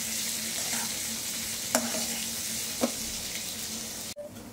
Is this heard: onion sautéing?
yes